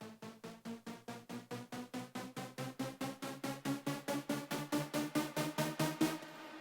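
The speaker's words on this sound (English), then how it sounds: "It's just like a saw-based riser, and I just put a gate on it." A buzzy sawtooth synth riser made in the Vital synth, chopped by a gate into rapid even pulses, rising in pitch and getting louder over several seconds before cutting off.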